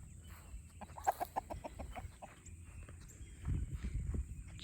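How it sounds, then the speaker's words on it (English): A red rooster and a couple of hens cluck on a farm in a quiet run of soft, rhythmic clucks, with low rustling and footsteps around them and no talking. "Here's a rooster, a red rooster. He got him a couple of hens."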